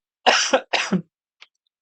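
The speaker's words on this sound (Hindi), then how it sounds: "देखो कितना खांसी भी हो गई" Two harsh coughs in quick succession, close and loud, followed by a couple of faint clicks in otherwise quiet air.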